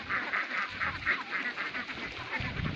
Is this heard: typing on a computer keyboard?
no